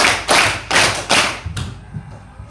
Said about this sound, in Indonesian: Tepuk empat. Dua kali di sini, kiri dua kali di kanan.